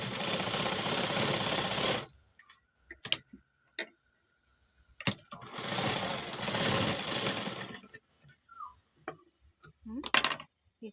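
A sewing machine stitching a hook strip on a blouse whirs in two sustained close bursts and one short final run, with quiet pauses and small clicks between them.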